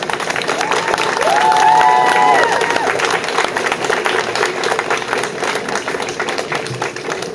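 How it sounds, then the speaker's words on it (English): An outdoor crowd at a solidarity vigil in Ottawa for victims of the London, Ontario attack gives a round of applause for four flag-holding kids. The clapping is dense and steady, swelling briefly near the start, with a voice faintly underneath. "if you guys can give a round of applause to all the 4 kids who have been holding the flag throughout the ceremony"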